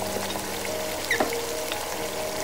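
Onions frying in a pan for chicken jalfrezi, a steady soft sizzle with faint scraping and a couple of brief clinks partway through, no voices.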